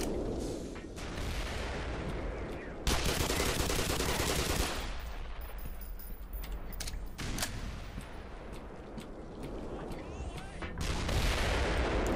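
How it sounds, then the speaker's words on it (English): Loud gunfire in Black Mesa, shooting down through the floor, heavy continuous bursts with booming impacts over about twelve seconds, a voice exclaiming briefly amid the shots. "I can shoot through the floor too!"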